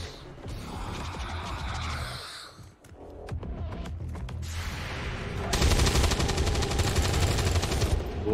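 Rapid mechanical gunfire from XCOM 2, bursts of shots with a rattling, buzzing texture growing louder toward the end.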